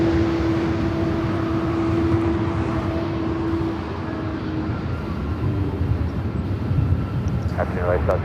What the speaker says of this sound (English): Avianca A320neo now heading over to 24 left.